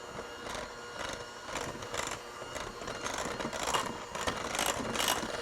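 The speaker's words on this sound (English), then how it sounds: "Now we're gonna turn our mixer on low and add in 2 tablespoons of confectioner sugar." An electric kitchen mixer runs on low while confectioner's sugar goes into the bowl, giving a steady mechanical whir with a faint gear-like rhythmic pulsing, close and moderate in volume.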